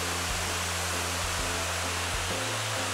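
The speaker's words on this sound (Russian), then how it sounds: "В общем, водопад неполноводный." A low-flowing waterfall called Shtany rushes in a steady, faint hiss of falling water on a hot day, with a low hum underneath and no talk.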